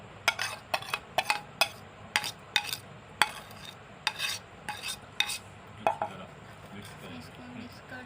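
A spoon mixes black pepper powder, salt and green chillies into a dahi bhalla mixture, knocking and scraping against the bowl in a quick, regular run of clinks over a low background hiss.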